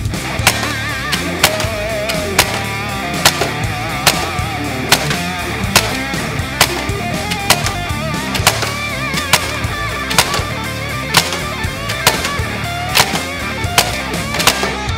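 A crossbow-style toy blaster firing repeatedly in first person, sharp snapping shots at a quick irregular pace, loud and close over a busy background with no talking.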